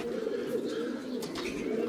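A pigeon sits on its nest and coos in a low, steady, continuous murmur, close by. The pigeon is a homing bird that returned after three years from Schwerin, Germany.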